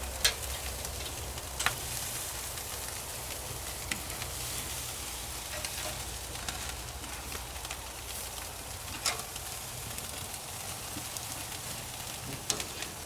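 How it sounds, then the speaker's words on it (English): A dry aged ribeye steak sears on an M Grills M36 sear box, giving a constant crackling sizzle with scattered pops and spits that carries on evenly and fairly quietly, with no talking. "Look at that fat's melting. Look at that sear already."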